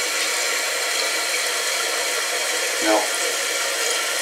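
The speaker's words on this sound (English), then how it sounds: "I'm gonna flush this one more time" A toilet fitted with a newly installed Fluidmaster 400AKR tank repair kit flushes and refills, giving a steady rushing water sound throughout with a brief gurgle near the end, and a person speaks briefly over it.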